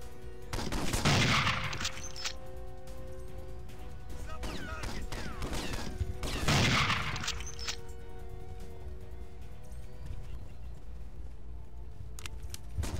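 Gunfire in the James Bond 007 NightFire PC game, two heavy bursts of shooting a few seconds apart over a constant low background hum, with quieter scattered clatter in between.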